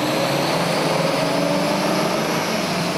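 A Mitsubishi Evo X or Subaru STI on its stock catback exhaust accelerates hard in second gear, a loud, dense, sustained engine roar close by with a steadily rising tone.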